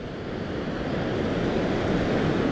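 Calm sea at El Cuco beach in El Salvador, a sandy shore at low tide, gives a steady, soft wash of small waves blended with light wind rumble. No one speaks.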